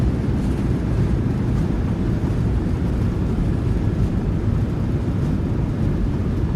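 Airliner thrust reversers deploying on landing in Microsoft Flight Simulator 2020, a Norwegian PMDG jet, giving a steady, loud, low roar that holds evenly throughout with no voices.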